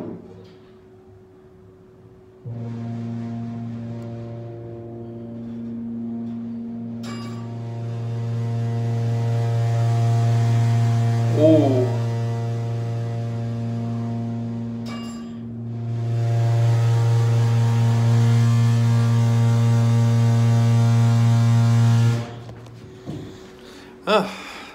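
A Montgomery hydraulic glass elevator at a Macy's in Rosedale Mall, Roseville MN, gives off a steady low motor hum that starts, swells louder through the ride, pauses briefly and resumes before cutting off, with a few faint clicks.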